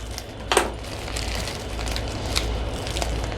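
Scissors cut open a plastic cheese package in a home kitchen: a sharp crinkly snip near the start, then softer rustling and a few small clicks of handling, close and alone with no talk.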